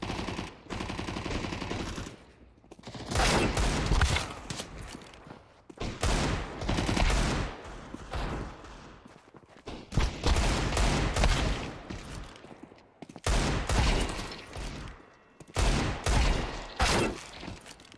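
Rapid bursts of Desert Eagle pistol fire in a video game, several loud volleys separated by brief pauses, close and dominant with no talk over them.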